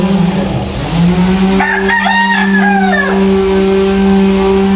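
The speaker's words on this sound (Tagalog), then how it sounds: "Iingay naman to mga manok na ito." A rooster crows once, loud and close, over a steady drone with other chickens around it; no one speaks.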